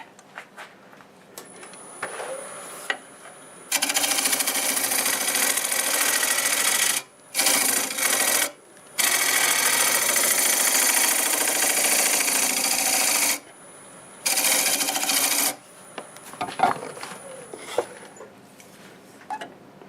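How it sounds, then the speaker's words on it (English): A small carbide hollowing tool cuts cherry wood on a lathe near a knot, giving loud sustained scraping bursts that stop and restart several times, with a steady motor whine running underneath. "Grab my little carbide hollowing tool just to get past that knot"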